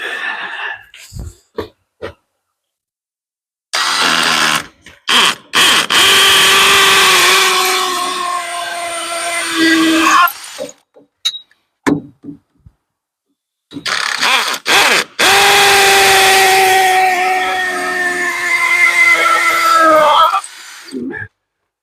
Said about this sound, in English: Again, the drill's on an angle, so I can get that screw in on an angle so I don't struggle.